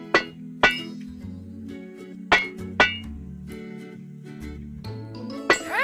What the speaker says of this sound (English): Use a hammer to level out the dents.